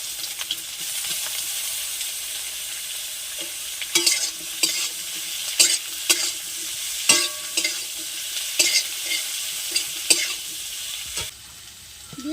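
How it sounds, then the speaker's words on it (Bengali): Raw jackfruit sizzles steadily in hot oil up close, broken by sharp spatula scrapes and stirs roughly every second, with no voices. "এবারে এঁচড়টাতে গরম তেলে দিয়ে দেব।"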